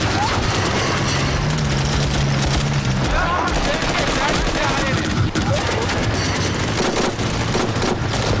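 Sustained heavy gunfire in a military firefight, dense overlapping bursts and single shots, loud and close throughout, with shouting voices mixed in.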